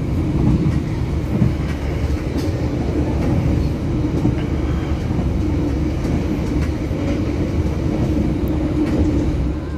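A KA Brantas economy train runs at maximum speed on the rails, giving a loud, steady rumble and rolling wheel noise from inside the carriage with no talk.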